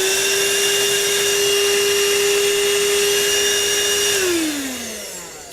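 A ThisWorx TWC-01 portable car vacuum runs with a loud, steady motor whine and airflow hiss close by, then winds down near the end as its pitch drops.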